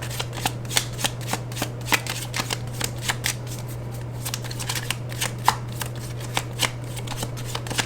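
Tarot cards being shuffled in a steady run of crisp riffling flicks, close and fairly loud over a constant low hum, with no talking.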